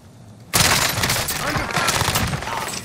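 Gunfire in a squad shooter video game erupts abruptly into loud, dense, sustained bursts, close and relentless, with a voice faintly mixed in.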